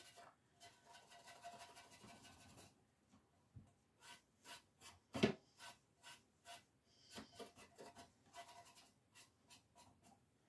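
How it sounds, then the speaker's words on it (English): Steel wool buffs a lamp during a makeover, first as a steady close scrubbing rasp, then as a series of short, separate rubbing strokes with one sharper knock in the middle. "Where's my steel wool? Steel wool again. Buff. Buff."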